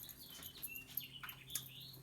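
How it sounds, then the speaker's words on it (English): A small finch singing outdoors, with short bright chirps and twittering notes repeating faintly over a low background hum. "Little Finch is out there singing"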